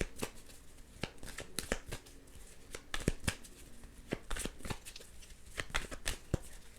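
A deck of tarot-style reading cards being shuffled by hand in a quiet room, crisp riffling snaps and flutters arriving in irregular bursts over a soft background, with no talking.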